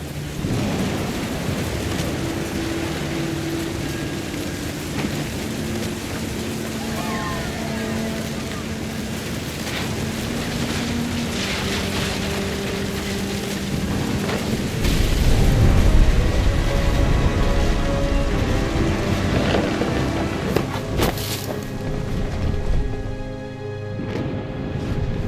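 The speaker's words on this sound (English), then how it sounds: "The thunder sounded much too close and full of angry power" Thunder rumbles over steady rain in the game What Remains of Edith Finch, loud and continuous, with a heavier, closer swell of thunder midway and a sharp crack near the end.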